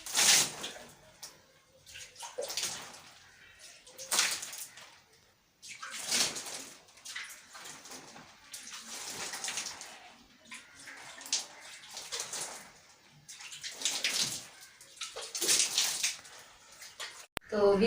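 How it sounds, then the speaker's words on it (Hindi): Water is sprinkled by hand onto a dirt floor in a village room, coming in repeated splashing bursts with pauses between, close by, while birds coo faintly in the background. "अब जो है मैं पानी इसको लगा देती हूँ ताकि जो ये मिट्टी है ना उड़े।"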